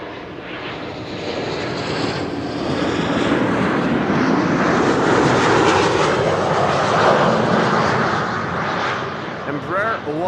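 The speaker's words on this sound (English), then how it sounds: "Embraer 190." An Embraer 190 airliner at Amsterdam Schiphol Airport gives a loud, steady engine roar that swells toward the middle and then eases off, with a voice talking over it.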